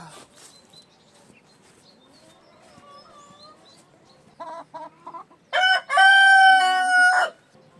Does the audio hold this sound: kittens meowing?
no